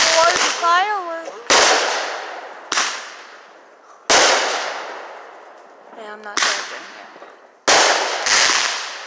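Fireworks and firecrackers for the Fourth of July explode in five or six sharp, loud cracks with decaying echoes. A person talks between the blasts.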